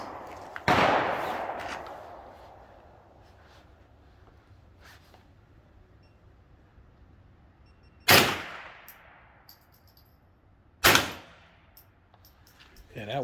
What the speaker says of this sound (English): We're gonna shoot both, then we're gonna check.